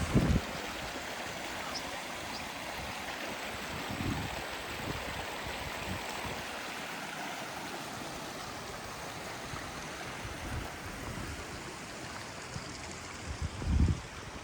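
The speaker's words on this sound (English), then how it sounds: "a lovely little stream coming down there in the sun" A small stream flowing through the Rivelin Valley near an old mill dam in Sheffield, with a steady, close, broadband rushing and trickling of water, continuous throughout, plus a few brief low bumps at the start and end.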